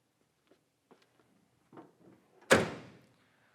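A door on a 1971 Chevrolet Camaro Z28 is handled: a few faint clicks and a soft latch rattle, then one solid, close thunk as it shuts.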